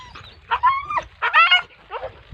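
Dogs bark and yelp during a hunt, several sharp, close, loud bursts in quick succession with short whiny tones between, no talk over them.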